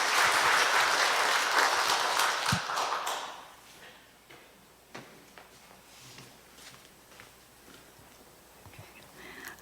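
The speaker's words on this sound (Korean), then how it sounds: "우리 큰 박수로 맞아주시면 감사하겠습니다." A Korean church congregation claps to welcome a new member to the front at a Sunday worship service, a loud burst of applause for about three seconds that quickly fades into quiet room noise and scattered small sounds.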